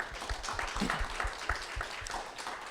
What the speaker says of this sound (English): Can we give a round of applause for Herbie?